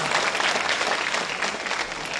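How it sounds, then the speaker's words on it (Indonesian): Audience applause for a guest at an Indonesian event, a dense, steady wash of many hands clapping throughout at moderate loudness, with no speech. "Tepuk tangan untuk seorang Dahlan Iskan."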